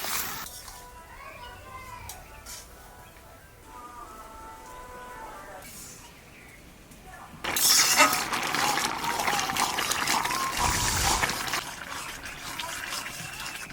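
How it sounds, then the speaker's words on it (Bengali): Water pours into a pan of cooking leafy greens for a fish-and-greens dish, starting partway through as a loud, steady rushing gush after a quieter stretch of soft kitchen sounds. "শাক রাঁধতে গেলে অল্প করে জল দিতে হয়"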